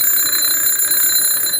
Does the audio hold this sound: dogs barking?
no